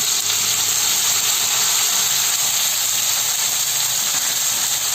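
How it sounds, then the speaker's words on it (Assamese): Crushed garlic frying in oil in a pan for chickpea paneer ghugni, a loud, steady, close hiss of sizzling with no breaks and no talking. "পিচি থৈ দিয়া নহৰুখিনি মই ইয়াৰে লগত ভাজি ল'ম।"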